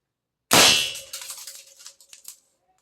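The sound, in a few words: first test shot from an air rifle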